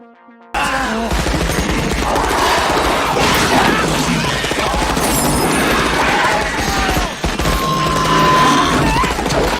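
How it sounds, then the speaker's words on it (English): Morita Assault Rifle gunfire from the Starship Troopers film, a dense continuous loud barrage mixed with mechanical clatter, crashes and film soundtrack noise, with one brief dip partway through. "Morita Assault Rifle."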